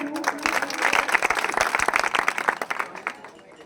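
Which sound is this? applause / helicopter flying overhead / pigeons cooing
applause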